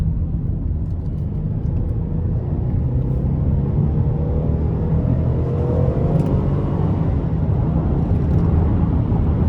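A 2016 Chevrolet Traverse LT with a 3.6-litre V6 drones steadily from inside the cabin, its engine rumble and whir sustained as it accelerates and shifts through gears in low gear, with no talk over it.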